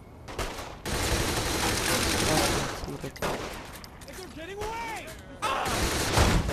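Heavy gunfire from a cannon in Saints Row: The Third, with rapid dense volleys and booming blasts close up, continuous with brief gaps and whistling effects.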